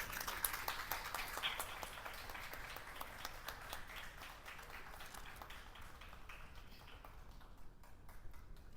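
An audience at a book launch ceremony applauds steadily as a guest comes onto the stage, a thin, fairly distant patter of claps that keeps going and thins out toward the end.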